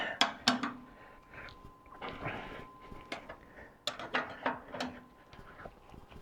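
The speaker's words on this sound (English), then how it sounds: "Tighten these two bolts. Keep them real tight." Metallic ratcheting and clanking near at hand as two bolts are tightened hard on a snow tractor fitted with an inverted blower, with irregular bursts of clicks and scraping and no speech.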